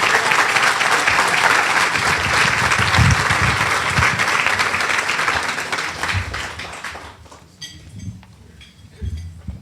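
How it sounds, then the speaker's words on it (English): An audience at a leadership awards event applauds a singer walking to the stage, a full burst of clapping that gradually fades away, leaving a few scattered claps and faint room noise. "Please give her a round of applause as she comes forth."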